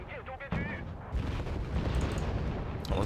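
Mortar fire in the Wargame Red Dragon strategy game: a sharp booming impact lands about half a second in, followed by a dense rumbling barrage that keeps crackling until the end.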